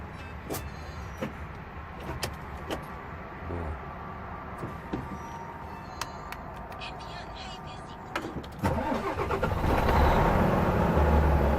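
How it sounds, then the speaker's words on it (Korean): A Tata Daewoo Trago 520 truck fitted with a new turbo and twin-vortex device sits idle with light clicks. Near the end its diesel engine swells into a louder, steady rumble. "한번 시동 한번 걸어보세요."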